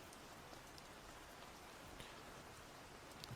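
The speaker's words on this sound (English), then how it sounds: "it's raining outside and I'm inside with you." Rain falling outside, a soft, even hiss of drops on surfaces heard from indoors, faint and steady throughout with occasional slightly louder patters.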